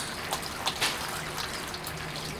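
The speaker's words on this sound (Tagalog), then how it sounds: "Running water." Running tap water pours over a dog's thick fur during a bath, a close, steady splashing gush with small bursts of spatter.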